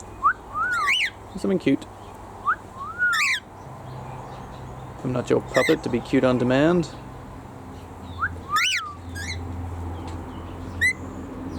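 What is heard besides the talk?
galah whistling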